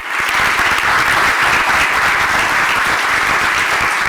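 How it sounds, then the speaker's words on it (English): Loud, dense audience applause fills a summit panel session on disaster resilience, a steady wash of many hands clapping together without letup. "Let's give them a round of applause"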